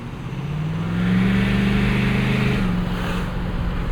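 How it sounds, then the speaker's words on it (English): Turbocharger on a 2016 Ford F-350 Lariat Super Duty with the 6.7 Powerstroke diesel, loudly sucking in air under acceleration: a steady whooshing rush that swells over a deep, droning engine note, heard from inside the cab, with no talking. "Sound from that turbo, sucking in so much air."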